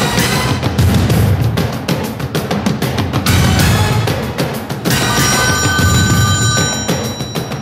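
A telephone bell rings loudly in repeated bursts with short pauses between them, a close, harsh electronic ring filling the scene with no one talking.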